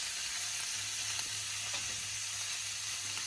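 Shrimp frying in butter in a skillet, searing on one side: a steady, even hiss of sizzling fat, faint and close, with no voices.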